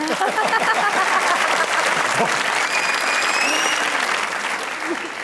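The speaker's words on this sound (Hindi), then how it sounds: "इसमें तालियां बजाओ" A studio audience at a comedy talk show applauds, with dense, loud clapping from many hands that holds steady for several seconds before easing slightly, a few voices faintly mixed in.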